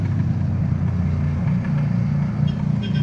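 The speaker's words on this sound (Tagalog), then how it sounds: "Siguro tuyo na yung kadena ng motor ko kasi ang ingay." Riding a motorcycle with a dry, noisy drive chain gives a steady low engine drone and a continuous mechanical whir, close and constant for a few seconds with no talking.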